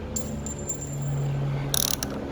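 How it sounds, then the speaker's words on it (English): A ratchet with a 13mm socket turns a spin bike's crank arm bolt. A short run of close, crisp ratchet clicks is followed by a quick, louder burst of clicking. "you turn it to the right, to the left to remove the bolt"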